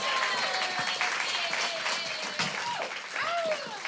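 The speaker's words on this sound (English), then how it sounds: "round of applause going for the one and only Alison Spittle" Comedy-gig audience gives a steady round of applause for a comedian arriving on stage, sustained and fairly loud throughout, with a few whoops and cheers rising above the clapping.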